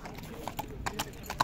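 Horse hooves clip-clop on hard ground at the Sokuluk livestock market near Bishkek, a faint, irregular run of steps under steady crowd murmur and distant voices.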